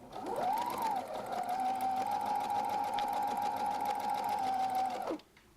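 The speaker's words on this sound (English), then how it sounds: "I'm showing her how to sew the squares together to get her quilt started" A sewing machine stitches quilt squares together in one continuous run of about five seconds, a close, steady motor whir with rapid needle chatter that rises at the start and cuts off abruptly at the end.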